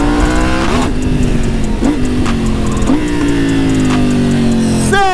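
A loud, new motorcycle engine revs repeatedly with a raw, rasping straight-pipe exhaust, pitch climbing and dropping in bursts, close by with no talking.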